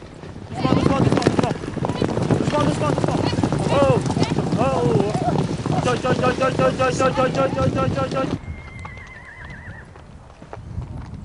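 Quarter Horses ridden in a team penning final, with clip-clopping hooves and repeated neighs and whinnies over a busy background of voices, then a quieter stretch near the end.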